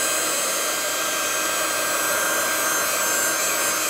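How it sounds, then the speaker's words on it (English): A heat tool dries ink on hand lettering, blowing a steady, loud, close whoosh and hum that runs unbroken throughout. "I'll just use my heater tool real quick."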